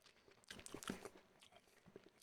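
A boiled orange sweet with a foamy centre crunched between the teeth very close by, a quiet cluster of sharp cracks and gritty chewing.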